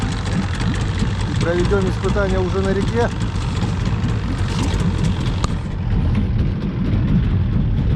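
An old Vikhr outboard boat motor, left standing for five years, idles with a steady low rumble throughout, while someone talks over it.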